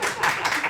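A short burst of hand clapping from a small group, steady and fairly close, with no voices over it.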